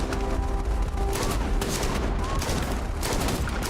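Rapid gunfire from a weapon in the space game Starfield, a steady run of sharp repeated shots close and loud across the whole stretch, with no talking over it.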